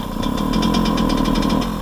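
A Yamaha YZ125 two-stroke dirt bike engine runs roughly up close, a steady loud buzzing idle with an uneven pulsing beat, heard alone without talk; its carburettor is suspected of needing cleaning and adjustment.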